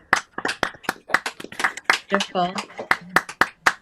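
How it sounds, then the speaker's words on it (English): Scattered claps from an online audience, unmuted for poet Saili Katebe at a virtual poetry evening, sound as sharp, irregular taps of varying loudness, with a speaking voice breaking in partway through. "could you all unmute and give a fabulous, fabulous applause for Saili Katebe"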